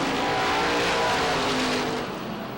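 Late model stock cars race around the Waterford Speedbowl oval in a 50-lap event, a loud, steady roar of several engines blending together, sustained throughout with a slight fade near the end.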